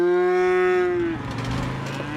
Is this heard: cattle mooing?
yes